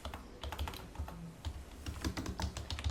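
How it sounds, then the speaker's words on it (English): Fingers type on a computer keyboard in an estate agency office, producing a quick, irregular run of close, light key clicks that continues steadily with no talking. "So when somebody types in, let's think of something to type in."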